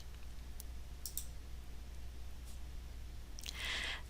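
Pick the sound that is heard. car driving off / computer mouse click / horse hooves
computer mouse click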